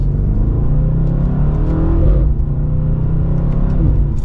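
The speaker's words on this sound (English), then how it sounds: "the sound of this exhaust. It is so good to hear." A 2023 BMW M850i xDrive coupe's exhaust revs hard and loud, its deep growl climbing and falling in pitch over a steady engine rumble, with a few sharp pops near the end.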